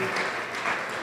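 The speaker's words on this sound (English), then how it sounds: "go ahead and stand up and cheer" A banquet audience at a dinner awards event claps and cheers in a dense, sustained wash of applause, loud and continuous for the brief moment.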